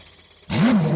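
Engine bursting into life after half a second of near silence, a sudden loud roar that rises then settles into a rough rumble, close by.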